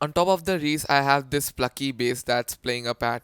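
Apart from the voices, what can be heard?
No everyday noises stand out.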